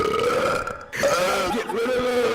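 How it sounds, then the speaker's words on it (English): A long, loud, rumbling burp at a burping contest rolls on for over two seconds, broken by one brief gap partway through, close to the listener. "Burping Contest"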